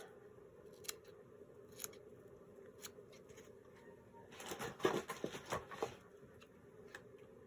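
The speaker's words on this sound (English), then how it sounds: "Scissors." Scissors snip through small paper scraps for a junk journal, a few isolated crisp snips early on, then a quick cluster of louder cuts in the middle, close and without talk.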